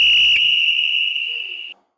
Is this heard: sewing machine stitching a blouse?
no